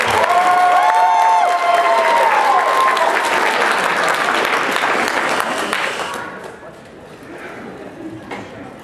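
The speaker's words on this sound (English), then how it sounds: "round of applause for Ashley" A convention crowd at Youmacon 2011 breaks into loud, dense applause with some cheering, then fades out toward the end.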